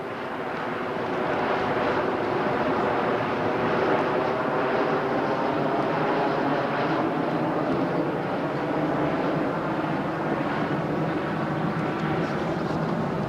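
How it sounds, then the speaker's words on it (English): A steady, broad roar of a jet aircraft passing on approach to an airport, sustained and fairly loud throughout with no voices, rumbling evenly for several seconds. "Now here's a jet going into Metro."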